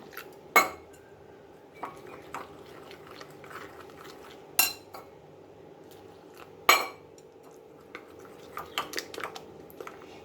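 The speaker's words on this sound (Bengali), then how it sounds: "এবার অল্প অল্প জল দিয়ে একটা ব্যাটার তৈরি করে নেব" A spoon clinks against a bowl while water is mixed into a batter for a potato and egg dish. A few sharp, scattered clinks sound up close over quiet, soft scraping.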